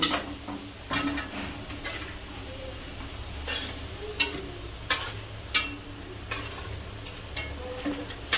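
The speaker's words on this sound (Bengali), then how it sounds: "আলুগুলো লাল লাল করে ভেজে নিলাম।" Potato pieces frying in hot oil in a pan: a steady soft sizzle runs under sharp clicks and scrapes of a spatula stirring against the pan, near and moderately loud.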